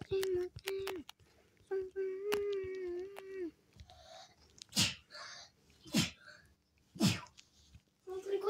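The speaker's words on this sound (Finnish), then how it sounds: "Mulla tuli 3 aivastusta samaan aikaan, ei kun kerrallaan." Three sharp sneezes burst out one after another in a row, each a brief loud explosive blast, following a stretch of sustained tonal vocal sounds and playful noises from a person at home.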